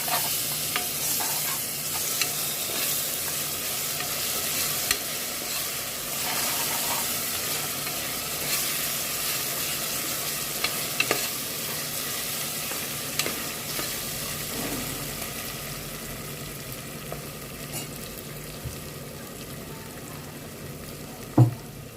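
Ginger garlic paste fries in a pan over browned onions for a mutton paya curry, producing a continuous close sizzle with scattered clicks and scrapes from stirring across the whole stretch.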